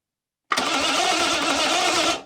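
An engine is cranked with a remote starter, a single loud churning burst that starts abruptly after a short silence, runs for about a second and a half, then cuts off.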